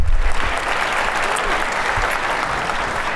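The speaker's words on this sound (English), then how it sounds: "How about another quick round of applause for Mayor Bibb?" An audience at a city's State of the City address gives the mayor a quick round of applause, a loud, close, steady patter of many hands clapping that fills the short stretch.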